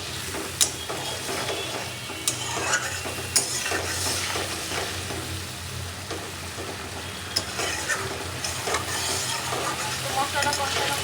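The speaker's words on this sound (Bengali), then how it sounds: "এখন ভালো করে মশলাটা কষাবো" Spice paste with coriander and cumin powder being sautéed and stirred in a pan, a steady low sizzle broken by sharp scraping clicks of the spoon, close and continuous with no talking.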